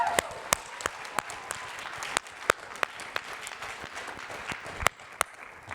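An audience at a speaker-series talk on the Second Amendment claps steadily, a room of hands forming a dense patter with sharper individual claps standing out.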